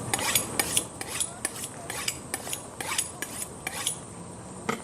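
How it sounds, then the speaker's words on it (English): A sharp kitchen knife slices through tomatoes for salsa, giving a quick run of crisp, light taps and clicks against a cutting board, close and fairly quiet. "when you grab your tomato, it slices just that easily"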